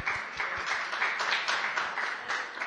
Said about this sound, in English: Yeah, that merits applause.